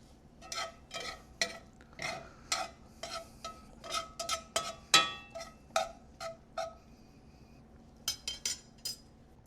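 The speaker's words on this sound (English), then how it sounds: "And we'll just mix that all together." A utensil repeatedly scrapes and clinks against a pan as flour, sausage and butter are mixed, a string of close, irregular metallic strokes with quiet gaps and a faint sizzle underneath.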